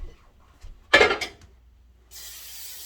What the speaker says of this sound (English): I'm going to spray my pan like so